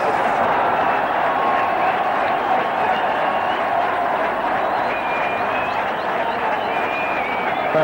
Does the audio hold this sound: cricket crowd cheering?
yes